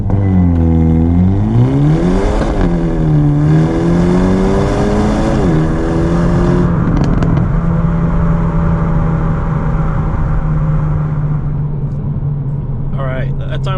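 Hyundai Elantra N with a dual-clutch transmission doing a launch-control start with NGS engaged, engine revving hard and climbing through several quick upshifts, loud and close, then settling into a steady cruising drone.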